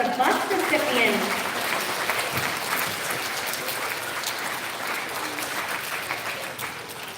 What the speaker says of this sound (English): nice big round of applause for the bus recipients